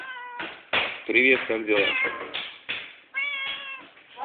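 A cat meows repeatedly in a home kitchen while food is being prepared, several drawn-out, clear meows close by, mixed with a person's talk.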